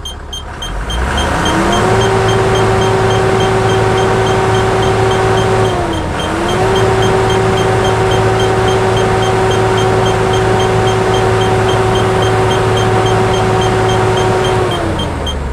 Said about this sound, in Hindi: तो इसको रेस करके देखते हैं कि RPM कितना